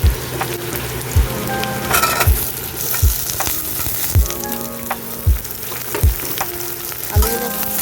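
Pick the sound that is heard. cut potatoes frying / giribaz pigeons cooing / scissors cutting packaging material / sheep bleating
cut potatoes frying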